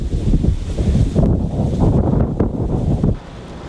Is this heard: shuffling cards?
no